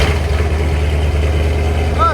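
A 1969 Chevy Corvette with a brand-new V8, headers and a Borla Atak exhaust idles while warming up, giving a steady, deep, close rumble. A voice speaks faintly over it.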